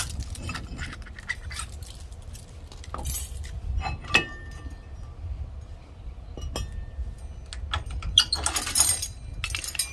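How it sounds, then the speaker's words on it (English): Metal trailer coupler lock being removed and installed, giving scattered clinks, taps and light jangling at close range, with brief louder metallic knocks among quieter handling noise. "Now I'm going to go ahead and remove this one and install the other type of coupler lock that they provided."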